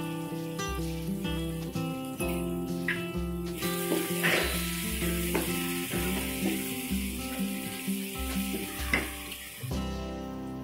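Chopped onions frying in oil with green chillies and turmeric for Marathi zunka, a soft steady sizzle running beneath louder continuous background music.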